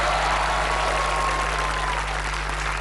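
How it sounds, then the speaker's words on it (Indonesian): Studio audience applauding on an Indonesian TV game show, a dense, continuous burst of clapping over a steady low hum, loud and unbroken throughout. "Tepuk tangan dong."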